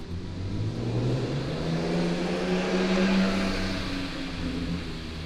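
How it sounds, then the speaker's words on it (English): A fast car passes close by, its mid-pitched engine rising then falling in a smooth sustained roar over about five seconds, loud and alone with no talk. "Oh, we got a fast car"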